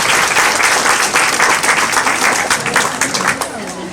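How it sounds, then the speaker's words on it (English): Audience applause at an aquarium dolphin show, a dense, steady burst of clapping from a crowd that carries on for several seconds. "You guys give him a big round of applause."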